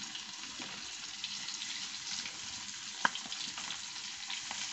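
Hilsa fish frying in oil, a soft, steady background sizzle with faint bubbling and one sharp clink near the end, fairly quiet and without any talk.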